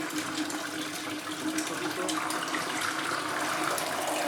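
A toilet flushing in a home, a steady broadband rush of water that holds fairly loud and even across the whole stretch with no talk.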